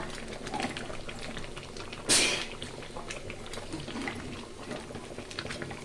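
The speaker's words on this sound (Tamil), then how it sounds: "கொதிச்சிச்சு பார்த்தீங்களா" Crab gravy for a Tamil-style crab fry bubbles in a pot, a steady soft boiling hiss with one brief louder splash or clatter partway through, no voices.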